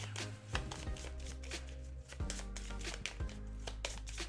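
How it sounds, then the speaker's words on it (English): A large deck of cards for the solo card game Eila and Something Shiny is shuffled by hand, giving close, repeated riffling bursts with sharp taps in between. "We need to shuffle this deck really good because we have lots of cards"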